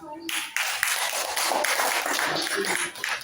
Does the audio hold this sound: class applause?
yes